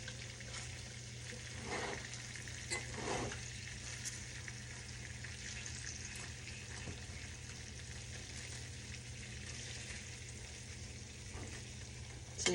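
Chicken frying slowly in a covered pan, a soft steady sizzle with faint crackles, low and even throughout with no talk.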